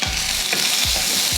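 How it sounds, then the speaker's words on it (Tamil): Small pieces of beetroot frying in oil in a pan for chutney, with a steady loud sizzle close by and three or four scraping strokes of a spoon stirring them. "இந்த எண்ணெயிலேயே நல்லா பீட்ரூட் வந்து வெந்து வரணும், அது மாதிரி வதக்கி எடுத்துக்கலாம்"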